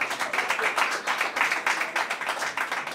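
Hands clap in a quick, rhythmic burst for a boy named Héctor on a children's TV show, bright and fairly close, steady for a few seconds with no talking.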